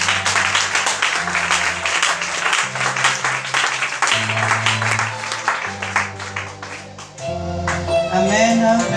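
A church congregation at a French-language worship service applauds in loud, sustained clapping over steady low musical tones, swelling louder near the end.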